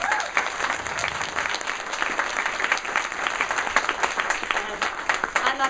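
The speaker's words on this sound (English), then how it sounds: "Please give them a round of applause." A room of story slam attendees in Lancaster claps for the event's organizing team, a dense, sustained round of applause with individual claps popping through and a voice briefly audible beneath.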